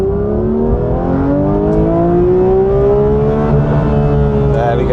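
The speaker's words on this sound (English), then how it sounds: "Let's get into second, now I'm going to floor it." A Porsche accelerating at full throttle in second gear, its engine note climbing steadily in pitch as revs build, loud and close from inside the car, with a brief voice partway through.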